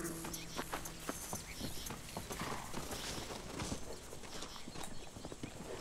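Horse hooves clip-clop steadily in the Red Dead Redemption western game, a busy run of hoof strikes, with an occasional whinny, layered under dense ambient game noise.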